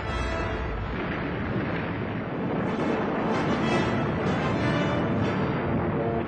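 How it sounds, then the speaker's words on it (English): The USS Arizona battleship exploding under air attack at Pearl Harbor, a sustained, heavy, roaring blast rumble that stays loud and dense throughout with no break. "It is Fushida's first wave of aircraft that hits the Arizona, which erupts like a volcano."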